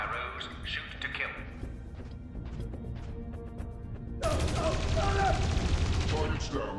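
Gunfire in the video game Dreamfall Chapters as guards are ordered to shoot to kill a runner fleeing bioengineering: a dense crashing burst of shots that swells loud in the second half, with voices talking beneath.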